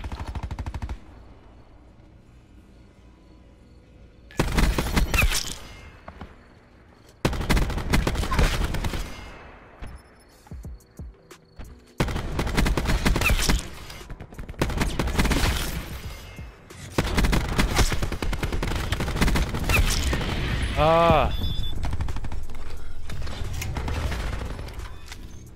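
Sustained bursts of Annihilator gunfire in Call of Duty Black Ops 4, loud and close, coming in several dense volleys separated by short lulls, with a ringing metallic tone near the end.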